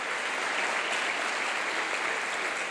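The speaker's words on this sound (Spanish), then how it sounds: "Vamos a darle un aplauso" A church congregation applauds during a sermon by Alejandra Stamateas, an even, continuous wash of clapping from many hands, moderately distant with no voices over it.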